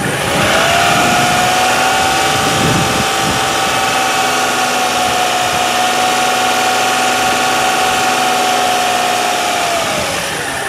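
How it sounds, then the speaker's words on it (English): Car engine held at around 2500 RPM during a battery charging test, a loud steady droning hum with an even tone throughout, dropping off slightly near the end. "It says increase RPM to 2500 RPM and keep it for 5 seconds."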